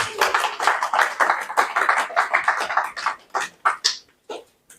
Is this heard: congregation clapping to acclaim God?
yes